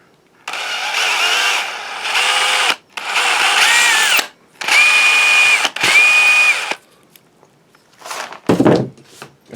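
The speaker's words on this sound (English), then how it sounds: "you want to go ahead and drill out the corresponding pinhole here" A power drill whines in several separate bursts as it bores a pinhole in a five-foot Millennium Falcon replica model part, with short pauses between runs and a clunk at the end.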